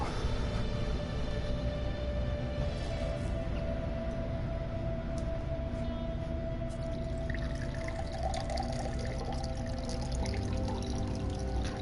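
Water poured into a glass at home, a steady continuous splashing stream that runs the whole time, close and fairly even in loudness, with no voices over it.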